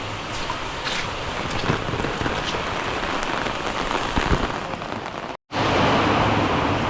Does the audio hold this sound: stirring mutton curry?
no